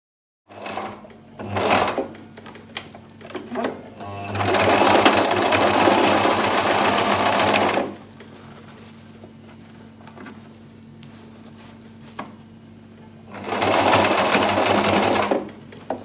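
Sewing machine stitching doubled wig wefts, running in long steady loud bursts with a quieter gap between them, close by and with no voices.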